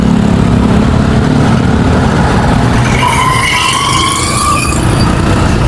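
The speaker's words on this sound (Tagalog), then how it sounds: "Maraming sasakyan dito ha." Busy Manila city traffic, a steady loud wash of car and truck engines rumbling close by, with rising engine whines layered in during the later seconds and no one talking.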